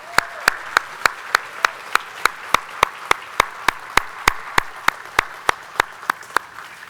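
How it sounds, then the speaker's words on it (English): A steady round of applause at a nursing honor society ceremony, but sparse: evenly spaced single claps at a brisk regular rhythm, fairly close, with a soft room wash behind them. "I'd like to extend another round of applause to everybody"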